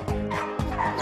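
Several dogs at an animal shelter bark and yip in quick succession, loud and close, with overlapping sharp barks and whiny yelps filling the whole moment.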